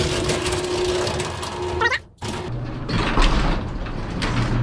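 Continuous mechanical rumble and whirring of a motorized overhead door moving down, its top hitting a drum, briefly cutting out, then resuming with a rattling drive sound.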